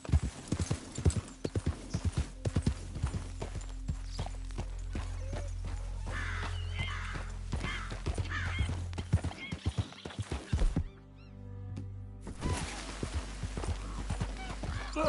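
Horse hooves in the video game Red Dead Redemption II clip-clop in a quick galloping rhythm, close and steady, with a neigh partway through and game music and ambience underneath.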